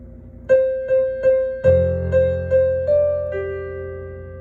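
A piano phrase from a song unfolds gently: steady single treble notes repeat, a low bass note joins midway and rings on beneath them, and a few more notes step upward before fading, unaccompanied by speech.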